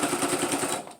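A sewing machine stitching fabric, a fast even rattling run of needle strokes, close and steady, slowing at the end with no talking.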